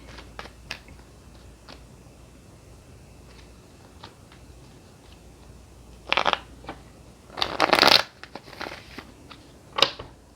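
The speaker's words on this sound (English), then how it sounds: "Now let's shuffle the tarot and get some clarifications." Tarot cards shuffled by hand in a few brisk riffling bursts, the loudest near the end, with light taps and faint handling noise between them; no talking.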